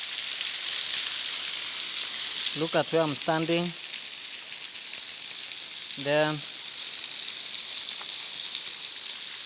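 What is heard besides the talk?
water falling like rain inside a cave near a waterfall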